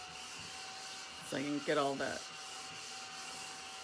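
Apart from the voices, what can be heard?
mini vacuum cleaner cleaning up embossing powder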